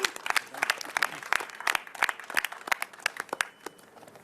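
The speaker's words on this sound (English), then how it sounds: "I'd like you to give them a round of applause." Audience applause at a Toronto event welcoming new electric buses, a steady patter of many hands clapping through the room for about four seconds, moderately loud, then thinning out toward the end.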